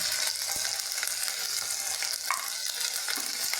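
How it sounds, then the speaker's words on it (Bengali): Ground spice paste of ginger, cumin, dried red chili and coriander, with salt and turmeric, frying in a pan: a dense, continuous hiss of sizzling oil with faint stirring scrapes, close and steady, no voices. "বাটা মশলাটা দিয়ে একটু কষিয়ে নিচ্ছি এতে আমি লবণ হলুদ দিয়ে দিলাম"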